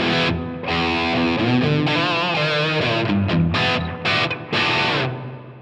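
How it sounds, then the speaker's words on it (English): Electric guitar played through a reverb effect with a high cut that darkens the tail, loud sustained chords and notes ringing into a dull, muffled wash as phrases stop and restart. "But that reverb tail has got a lot darker."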